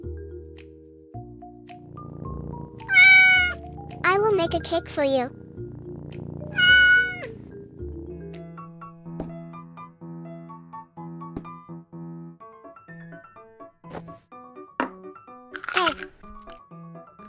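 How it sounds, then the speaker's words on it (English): A small cat meows several times in high, drawn-out calls at close range. A person speaks over some of the meows, and quieter clinks and taps follow. "Oh, a little cute cat."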